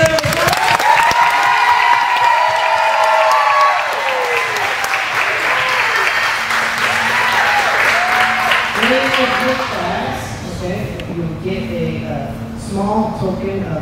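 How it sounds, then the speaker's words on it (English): Audience applause and cheering greet the newest first degree black belt at a Pride Martial Arts ceremony: loud, dense clapping with voices calling out over it, easing somewhat toward the end. "Let's give a big round of applause."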